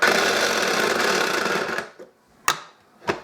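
Loud whirring food processor motor chopping tomato chunks for about two seconds, then stops, followed by two short clunks.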